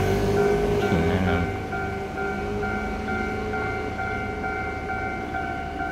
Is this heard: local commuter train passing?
yes